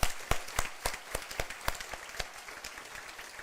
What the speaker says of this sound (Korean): 우리 경기의 박수 부탁합니다